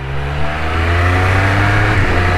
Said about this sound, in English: That quick shifter is absolutely butter.